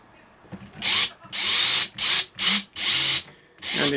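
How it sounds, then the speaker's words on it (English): A power drill bores a hole into wood in a series of short bursts, each a loud high whine that spins up and cuts off, separated by brief pauses. "we'll drill a bit of a hole into that as well"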